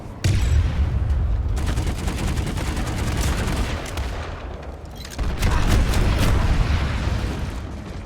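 Loud booms and crackling blasts from the shooter game Planetside 2 roll through, with a heavy burst near the start and another midway, each fading into a rumbling tail.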